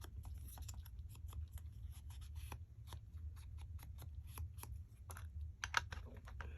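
Scissors trim the edges of a paper tag for an altered file folder journal, giving quiet, rapid repeated snips and rustles close by, with no talking.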